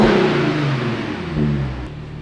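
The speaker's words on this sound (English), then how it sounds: "The exhaust tone." An Audi engine revs up and holds, its new exhaust droning loudly and close by before easing off slightly.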